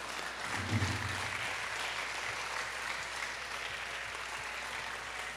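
Applause from a congregation at a church youth camp, a steady even patter of clapping that carries through the whole stretch at moderate level, with a brief low murmur near the start.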